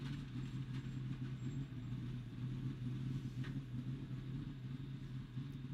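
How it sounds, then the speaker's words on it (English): NASCAR Xfinity Series stock car at Kansas Speedway running on flat tires, heard as a steady, loud engine drone and low rumble with no break, no voices over it. "You can hear the flat tires."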